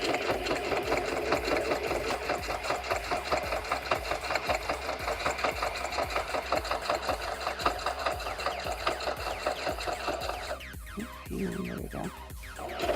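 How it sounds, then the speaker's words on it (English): A sewing machine runs a zigzag stitch on eco-dyed fabric for a handmade junk journal, a fast rhythmic mechanical chatter held steady for about ten seconds before slowing into a few short bursts, close and loud. "I'm just going to do a zigzag stitch."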